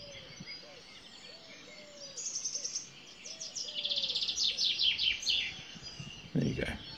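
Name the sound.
chaffinch singing in a tree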